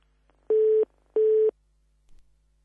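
Two identical steady telephone line beeps of an incoming call on an Arabic radio quiz show, each about a third of a second long, evenly spaced and clear, followed by a faint click, with no talking.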